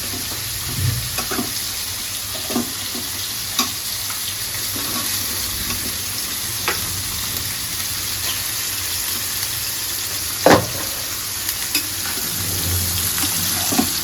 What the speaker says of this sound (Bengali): এখানে আমার মশলা প্রায় কষানো শেষ, আমি দিয়ে দেবো আমার ভেজিটেবলসটা